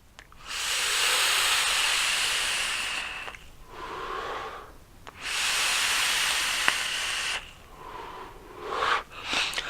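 Vapour drawn through a Uwell Nunchaku RDA vape at half-open airflow: two long, loud airy hissing pulls close to the mic, each followed by a softer breathy exhale, with a short gasp-like draw at the end.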